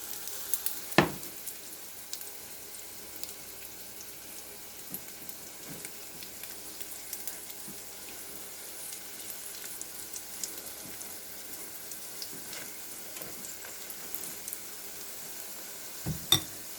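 Frying sizzles softly inside a pot, a steady faint crackle and hiss running throughout with a couple of sharp clicks or taps near the start and the end, and no voices.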